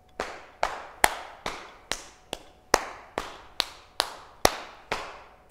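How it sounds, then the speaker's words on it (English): Body percussion in a music lesson: a steady series of about twelve sharp, close claps and hand taps on the knee, evenly spaced in a moderate rhythm with no talking. "And then we're going to clap, and then we're going to bring our right hand to our right knee and tap it twice with our left hand."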